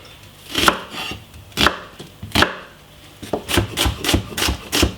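A knife chops a medium white onion finely on a cutting board, with a cluster of sharp taps, a pause, then a quicker run of chops. No talking.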